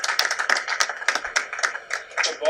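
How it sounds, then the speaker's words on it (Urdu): Audience clapping for special children at an evening gathering, a quick run of close, overlapping claps in an uneven rhythm, with a voice faintly underneath. "تو میں چاہوں گا کہ سب ان بچوں کے لیے تالیاں"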